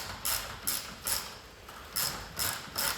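A ratchet winds a bolt back into the rear subframe of a classic Mini, clicking in six quick bursts about half a second apart with short pauses between, fairly close and with no talking.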